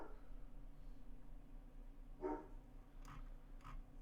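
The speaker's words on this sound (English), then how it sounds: "my dog's being loud." A dog barks a few times, spaced apart and fairly distant, sounding faint over a steady low hum with no voices.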